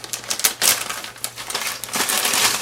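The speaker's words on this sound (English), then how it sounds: "I'm going to be shuffling in this bag" Crinkling and shuffling of items inside a bag, with irregular rustling bursts and crumpling noises at close range and no talking.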